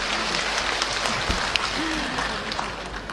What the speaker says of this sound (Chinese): 我们再次用热情的掌声献给老艺术家们